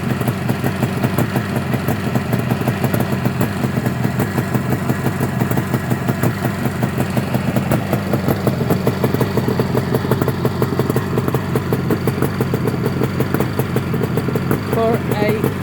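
A 49-year-old Suzuki GT250C two-stroke motorcycle idles loudly and close by, its rapid, uneven engine pulse and clatter steady throughout, with a person speaking over it at times.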